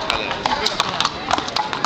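Horses trot at an agricultural show, with light, irregular hoof clip-clops close by over a busy background murmur.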